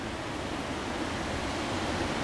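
White water rushes and roars below the breached Cherokee Falls dam on the Broad River, a steady, dense hiss heard from nearby without pause.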